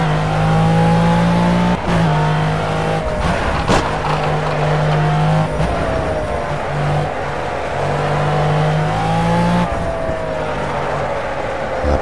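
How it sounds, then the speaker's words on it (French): McLaren F1 GTR long tail V12 engine in the PC racing game Project CARS, loud sustained engine note rising and dropping through repeated gear shifts and braking, with no voices over it. "le bruit du V12, je suis un peu déçu"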